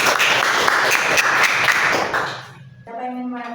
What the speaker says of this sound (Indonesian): Beri tepuk tangan untuk kelompok 2 karena sudah berani tampil ke depan untuk presentasi.